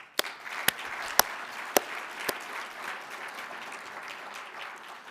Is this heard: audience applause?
yes